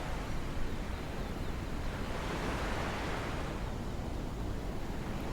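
Ocean waves washing onto Miami Beach, a steady, full wash of surf with no break, fairly close and constant, with wind across the microphone and no voices.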